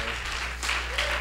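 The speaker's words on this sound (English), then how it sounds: "give one more round of applause, guys" A short burst of applause from an audience at a church gathering, steady and moderately loud with a soft background hum.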